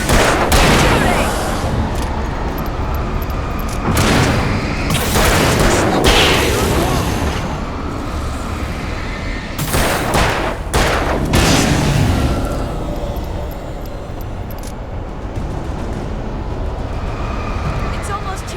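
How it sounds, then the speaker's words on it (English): Bursts of gunfire ring out in the Alan Wake game, repeated loud broadband shots and booms in irregular clusters over a dense, continuous action soundscape with talk mixed in. "Shooting! Shooting!"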